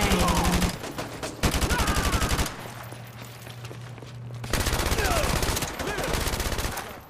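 Rapid automatic gunfire from the Call of Duty Modern Warfare Remastered video game comes in loud sustained bursts separated by a short quieter gap, with some voice mixed in.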